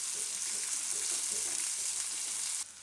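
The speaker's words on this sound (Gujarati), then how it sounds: "તો આમાં આપણે હવે ડુંગળી નાખી દઈશું. તો ડુંગળીને થોડીક વાર તેલમાં પાકવા દઈશું." Onion fries in oil with cumin in a pan. A dense, even sizzle holds steady at close range, then drops sharply just before the end.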